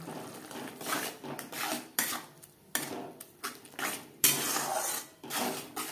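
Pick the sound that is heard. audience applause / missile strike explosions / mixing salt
mixing salt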